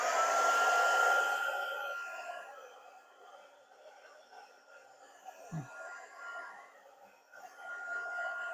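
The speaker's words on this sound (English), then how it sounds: "So I'm just going to dry it again quickly now So turn off your volume if you don't like the heat gun." A heat gun blows loudly and steadily at close range while drying acrylic paint on a stencil, then its whooshing roar drops lower and fluctuates before swelling again, with no one talking.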